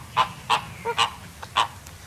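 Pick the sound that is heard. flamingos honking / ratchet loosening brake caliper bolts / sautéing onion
flamingos honking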